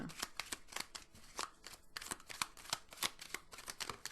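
Oracle cards are shuffled by hand in quick, crisp riffling bursts, close and fairly quiet, with a steady rhythm of flicks and slaps over several seconds and no speech.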